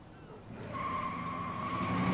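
In the video game Life is Strange, a car's tires squeal in a rising, sustained screech over engine noise as it nearly runs over a dog.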